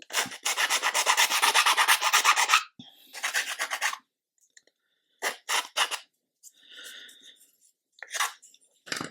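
A round file rasps back dried glue on the display stand of an Amati 1/80 Endeavour model ship, with a long steady run of close, rhythmic strokes followed by several shorter separate bursts of filing.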